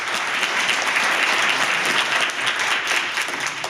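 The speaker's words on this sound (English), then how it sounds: "I think all the young people who spoke tonight deserve another round of applause" Applause at a city council meeting for the young people who spoke, a loud, sustained, dense round of clapping from a full room that holds steady throughout.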